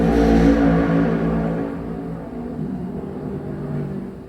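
A car's motor rumbles loudly at first, then fades as it passes by, leaving a lower steady drone.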